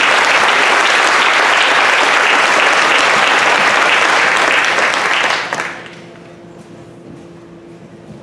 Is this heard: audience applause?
yes